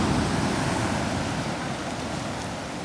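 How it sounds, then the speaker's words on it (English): Sea waves breaking on a Cyprus shore, a loud continuous rushing wash of surf with wind noise, gradually easing slightly, no speech. "The waves are getting bigger and bigger, right?"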